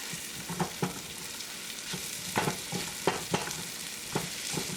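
Shrimp frying in butter in a pan: a continuous soft sizzle, close and moderate in level, broken by a handful of brief clicks and scrapes as pieces settle or are moved. No talking.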